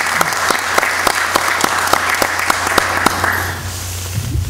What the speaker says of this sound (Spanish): voy a pedir un aplauso para el comandante